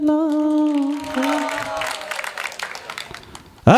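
An audience at a live stage program claps along in rhythm to a Hindi love song with a sung 'Laila hai' refrain; steady hand claps sit under the loud singing and music.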